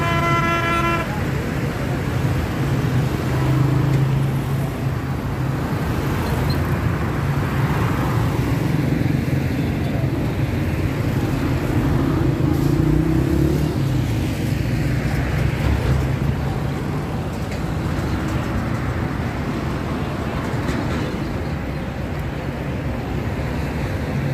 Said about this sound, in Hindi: नीचे जो ट्रैफिक है वो इस वक्त रवा दवा है